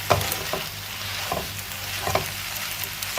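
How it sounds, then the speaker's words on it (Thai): Young bai liang leaves are stir-fried with egg in a pan, seasoned with sauce and a little fish sauce, giving a steady soft sizzle broken by scraping spatula strokes about once a second. "ผัดให้เข้ากันเลย"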